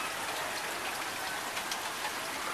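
Monsoon rain falls on a rooftop as a dense, steady hiss of drops, constant and close throughout with no voices.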